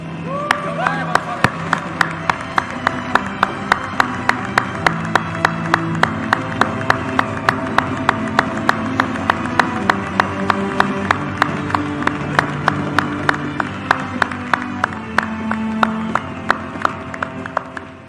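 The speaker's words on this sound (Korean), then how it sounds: "영광의 박수." Church congregation clapping in steady rhythm at a New Year countdown service, loud and continuous for many seconds, with voices singing or talking along.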